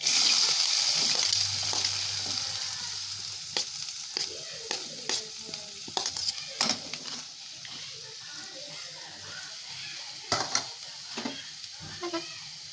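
Onions frying in a pan at a village cook's stove, a steady sizzle running throughout with repeated scraping clicks of a spoon stirring, loud and close, with a few brief sharper clatters.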